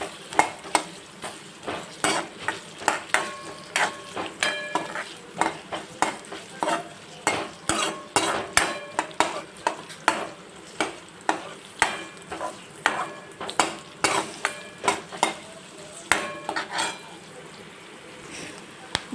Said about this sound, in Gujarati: ડુંગળીને આપણે ગોલ્ડન બ્રાઉન સુધી એને કૂક કરી લઈશું